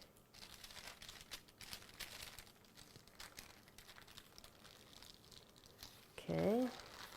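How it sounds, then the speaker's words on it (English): Baking paper being slowly peeled off a baked roulade cake, a soft, continuous crinkling and tearing rustle close by, with a brief voice near the end. "we can gently peel off the paper."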